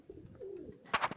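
Pigeons coo softly in a loft, a low warbling call followed by a brief flurry of sharper fluttering sounds close by, with no one talking.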